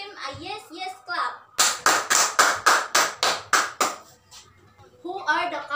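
A college class gives a rhythmic group cheer clap, about ten sharp, evenly spaced claps in a row, with children's and adults' voices talking just before and after.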